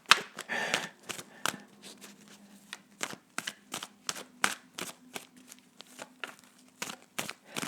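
Tarot cards being shuffled by hand: a quick run of crisp riffles and papery flutters, then a steady series of sharp, separate card snaps and taps at close range, with no talking.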